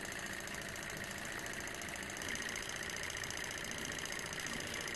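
A small SH-021 coaxial swing-arm beta Stirling engine with a flywheel and almost no frame runs steadily, giving a continuous close mechanical whir and fast rhythmic knocking at an even pace, with no talk.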